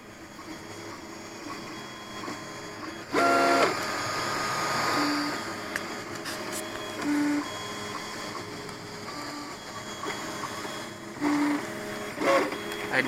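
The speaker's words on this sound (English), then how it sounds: "Let's take a look at what the printer's actually doing at this time." 3D printer producing a drone prop guard for a micro quadcopter, a faint mechanical whir with short stepper-motor tones and whines recurring in bursts, and a voice talking over it.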